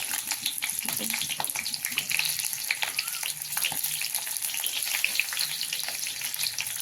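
Green chillies sautéing in a pan with masala make a dense, continuous crackling sizzle up close, with stirring scrapes and faint voice murmur underneath.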